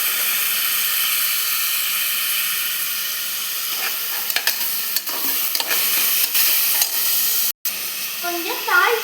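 Curry leaves and green chilies sizzle in hot oil with onions for idly upma, a steady loud frying hiss broken by scraping stirs and spatula clicks near the end.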